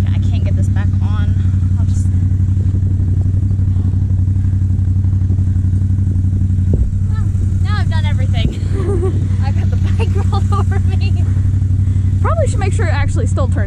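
A Polaris off-road vehicle at Slades Park runs at a loud steady idle after rolling over, its deep engine drone constant throughout while people talk over it.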